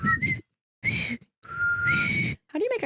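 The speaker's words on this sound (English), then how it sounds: "How do you make a tighter whistle?" Lip whistling: several short tonal whistles with sliding, wavering pitch, set apart by brief pauses. Breathy air noise rises under each note, and a closing rough blow ends the run.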